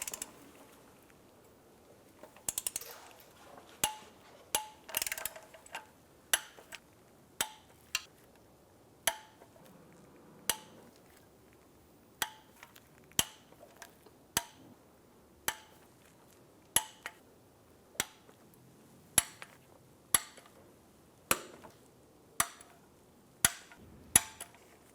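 Torque wrench clicking as oil pan bolts are tightened on a 1998-2010 Volkswagen Beetle, a steady series of sharp, fairly close clicks and small metallic taps spaced about a second apart in a quiet garage.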